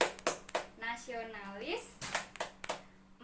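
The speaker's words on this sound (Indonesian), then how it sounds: "mari kita tepuk PPK terlebih dahulu" Hand claps from an Indonesian primary-school class chant mark the rhythm in a few sharp, close strikes, alternating with a single voice calling out the chant words.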